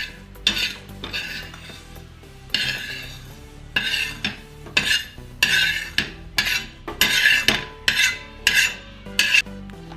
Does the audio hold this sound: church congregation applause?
no